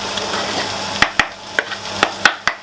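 Garlic and chopped fresh red chili pepper frying in a pan: a faint sizzle with six or so sharp clicks and scrapes of a utensil against the pan, no talking.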